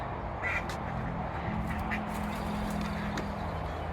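Several ducks, two drakes and a female, quack outdoors in brief scattered calls over steady background noise, fairly close, with no talk.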